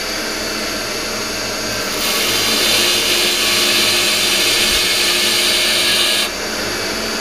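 Steady, loud whir of a polishing wheel buffing a part from a 1966 Ford Galaxie 500 convertible during restoration, with a brighter, harsher tone in the middle as the part presses against the finer wheel.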